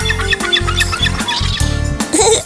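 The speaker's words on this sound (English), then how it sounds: "Seagull!" Seagulls calling in a series of harsh, repeated cries, loud and close, several calls in quick succession.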